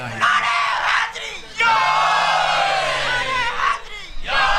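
At a majlis in Chota Imambada, Lucknow, a large crowd roars the Naara-e-Haidari slogan in loud collective bursts, three surges of shouting with short lulls between them.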